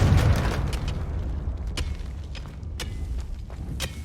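A Confringo fire spell bursts in Hogwarts Legacy, a loud booming blast at the start that rumbles and fades, followed by a few sharp crackling pops.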